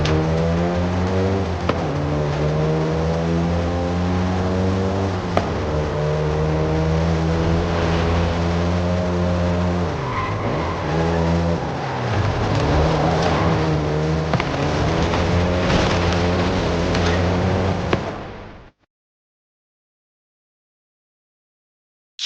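Volkswagen Golf GTI hot hatch engine in the video game Forza Horizon 5, a loud steady drone with harmonic tone that rises and falls through gear changes for about eighteen seconds, then cuts out abruptly into silence.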